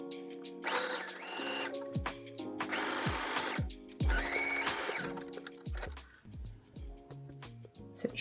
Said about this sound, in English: You need to stretch the elastic and then place it on the fabric, and you're sewing here up to this picot